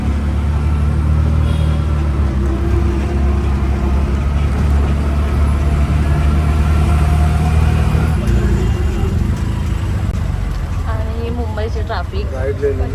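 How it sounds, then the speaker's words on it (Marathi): Busy Mumbai street traffic with auto rickshaws makes a loud, constant rumble of engines and road noise, close by, while a person talks over it. "मुंबईची ट्रॅफिक असतेच असते रात्री या दिवसा या"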